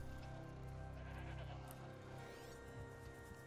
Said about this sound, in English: Yeah, mountain goats.